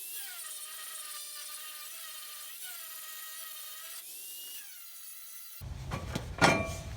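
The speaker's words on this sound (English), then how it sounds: "I'm going to take a grinder and take about an 1/8 inch off each side" An angle grinder shaves about an eighth of an inch of metal off each side of a flat bed trailer hitch, emitting a high, steady whine that dips in pitch under load, then ends in a harsh, loud burst of grinding.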